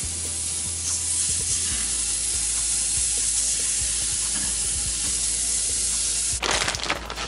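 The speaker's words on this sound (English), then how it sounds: "let's get the first piece of bread going. Put the butter in there." Bread fries in butter in a hot pan with a steady, loud sizzle that fills the whole stretch, and a brief scraping clatter comes near the end.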